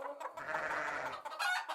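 Several hens cluck together in a short, steady burst, moderately close and fairly soft, part of a Spanish-language audio documentary recounting a myth about a dowry of hens, sheep and a ram; no voices are heard.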